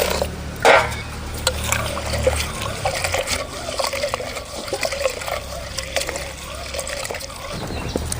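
Water is poured over lentils in a kitchen to soak them while preparing a spinach kootu, a steady trickle and splash running throughout with a louder slosh near the start.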